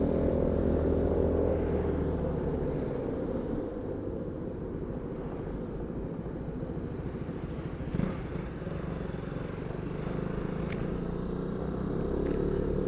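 A KTM motorcycle rides ahead on the road, its engine a steady drone blended with wind rumble from a following Sym Joymax 250i scooter.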